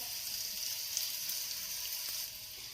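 Onion sizzling in ghee in a home kitchen, a steady soft hiss of frying that runs unbroken from start to finish at moderate, close level with no voices.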